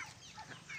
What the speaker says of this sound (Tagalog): Mga chicken.